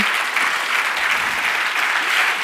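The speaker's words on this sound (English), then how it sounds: "They need a big applause because they worked hard" An audience at a startup awards night applauds steadily and densely, a close, even wash of clapping with no pauses.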